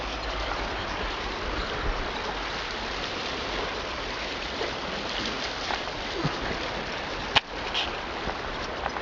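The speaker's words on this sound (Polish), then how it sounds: "Można sobie siąść i patrzeć na szumiącą wodę." The Wisłoka river rushes past in a constant, close broadband hiss of flowing water lasting the whole stretch, with one sharp click partway through.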